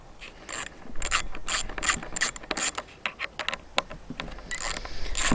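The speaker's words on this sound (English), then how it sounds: "Now, with the number 8, we're gonna remove those two screws." A ratchet with a number 8 socket loosens two screws on the carburettor of a Stihl 028 AVS Wood Boss chainsaw, giving close, rapid clicking bursts in an irregular rhythm with short pauses.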